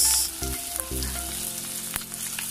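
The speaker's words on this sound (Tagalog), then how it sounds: "Magigisa na tayo, painit na ako ng mantika." Garlic and onion hit hot oil for chicken pulao, giving a bright continuous sizzle with a few brief clanks of the pan, close and without talk.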